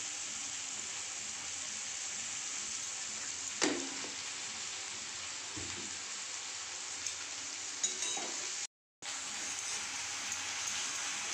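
Onions browning in hot oil with a little sugar while cooking pabda fish in a home kitchen, a soft steady sizzle with occasional clinks of a stirring utensil, close and continuous.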